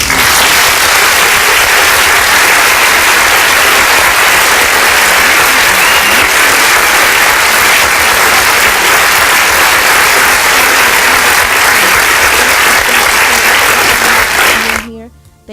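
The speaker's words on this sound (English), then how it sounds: "we are going to give Shani some applause." Sustained, loud applause for Shani Stephens, creator of A Sub in the Brick City, on a radio show, with dense clapping filling nearly fifteen seconds before cutting off abruptly at the end.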